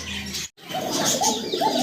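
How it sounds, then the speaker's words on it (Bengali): After a brief silent gap, a pigeon gives soft, low cooing calls close by. "কবুতরের ডাক শুনতে পারলেন"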